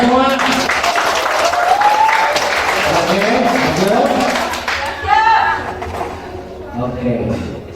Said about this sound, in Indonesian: Aplaus untuk semua.